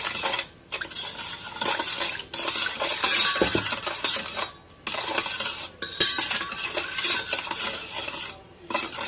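Pork humba with black beans is stirred in a pan, with metal utensil scraping and clinking against the cookware in steady bursts, a few brief pauses, and no talking.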